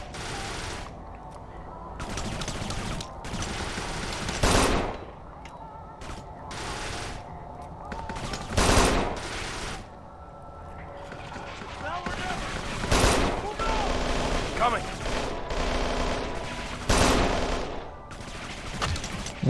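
Gunfire in the video game Kane and Lynch 2: Dog Days on Extreme mode, with repeated loud bursts and volleys over a busy, continuous battle din, while a player talks over the action throughout.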